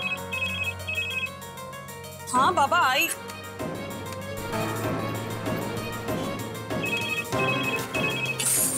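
A telephone rings in short repeated bursts at the start and again near the end, with a voice and a loud musical sting breaking in between.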